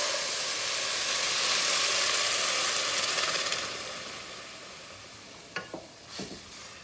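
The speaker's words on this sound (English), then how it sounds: "let me add the milk into it" Milk poured into a hot, parched pan for kheer sends up a loud rush of hissing steam and sizzle that slowly dies down, followed by a couple of short clinks near the end.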